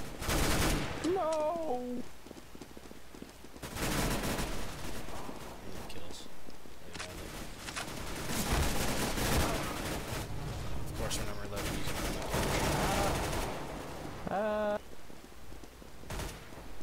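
Bursts of rapid gunfire from CS:GO rattle out in several separate volleys, fairly quiet overall, while players talk excitedly between and over the shots.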